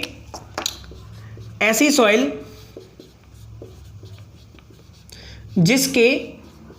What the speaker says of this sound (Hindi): तो यहां पर हम लिखते हैं